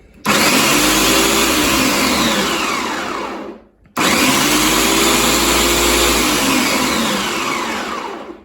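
A Bardefu 3-in-1 juicer blender motor whirs loudly at full speed in two long runs, each about three and a half seconds, with a brief cut in between and a steady high-pitched whine throughout.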